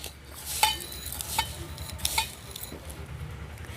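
A cup of Mysore dal for fenugreek dal going into a metal pot in a home kitchen, with several clinks and scrapes of a utensil against the pot over a low background hiss.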